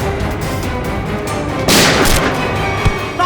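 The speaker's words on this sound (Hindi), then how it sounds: "अंदर से गोलियां चलने की आवाज आ रही है।" A sharp, booming gunshot-like blast from gunfire inside a hotel room cuts through steady background noise, followed by a smaller thump, sounding enclosed and close.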